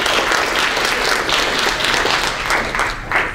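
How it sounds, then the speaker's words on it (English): An audience applauds at a transportation brown bag lunch talk, a dense, steady wash of clapping that stays loud and close for the whole stretch. "Let's give Austin a round of applause,"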